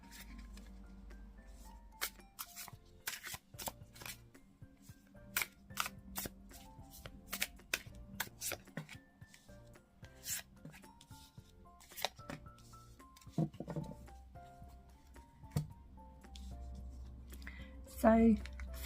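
Tarot cards being shuffled by hand, a long run of sharp, quick riffling clicks and flicks at close range, some cards slipping loose, with faint room tone underneath.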